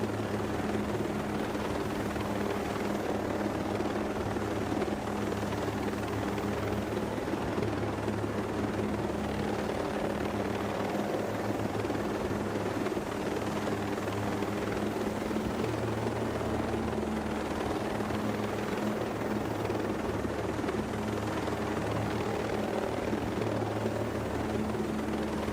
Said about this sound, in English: What if they saw the chopper but had no anti-air?